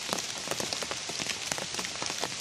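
Steady rain pattering down on a surface outdoors at a jungle campsite, a dense continuous hiss of drops with scattered sharper taps, close and unbroken throughout.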